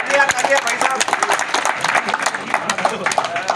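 At a National Safety Week gathering, a crowd claps loudly and steadily for a participant, a close dense patter with voices talking over it.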